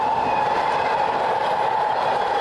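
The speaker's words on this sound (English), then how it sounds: "That's a MARTA train." A MARTA rail train in Atlanta passes with a steady, loud rumble and hiss that holds evenly throughout, with no talking over it.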